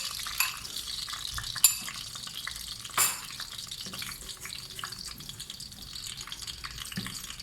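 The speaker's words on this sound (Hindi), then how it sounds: "चलिए, हमारा ऑयल गर्म हो चुका है। अंडे मैंने फेंक दिए हैं" Eggs with turmeric sizzling in hot oil in a pan, a steady crackling fry close up with a few sharp spatters and utensil knocks, no voices.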